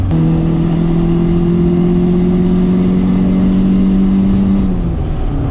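A turbocharged Honda Civic engine held at full throttle gives a loud, steady, close droning roar that stays level for several seconds, then drops in pitch near the end.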